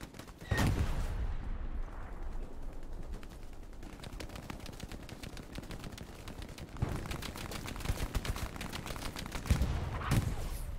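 Dense rapid gunfire in the World War II shooter Hell Let Loose, with sustained machine-gun rattles and overlapping shots fairly close, swelling in bursts over a constant battle din.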